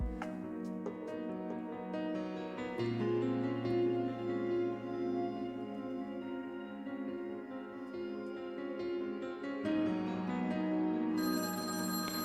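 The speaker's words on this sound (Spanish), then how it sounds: "Por tercera vez aquella noche, el silencio fue roto por el sonido del teléfono." Telephone bell ringing in repeated bursts across the clip, moderately loud and alone with no voices.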